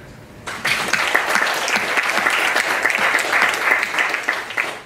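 An audience at a Greater Europe discussion event applauds the board, clapping breaking out suddenly after a quiet start and holding as a dense, even roar of many hands to the end.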